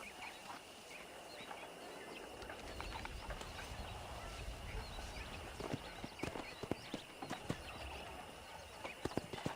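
Horses in the Red Dead Redemption video game trot and neigh, with steady clip-clop hoofbeats and occasional sharp hoof hits under a broad outdoor ambience, joined by faint bird-like calls.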